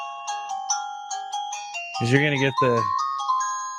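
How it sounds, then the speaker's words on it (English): A phone ringtone chimes in a repeating melodic pattern, fairly close and clear, while a voice talks over part of it. "And that was a phone call from the East Wing."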